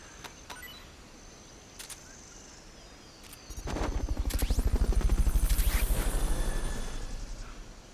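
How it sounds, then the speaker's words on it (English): In the Metal Gear Solid Peace Walker game, a Fulton recovery helicopter thuds in with rapid, loud rotor beats that swell and then slowly fade, preceded by a few sharp mechanical clicks and snaps. "Fulton recovery helicopter is complete."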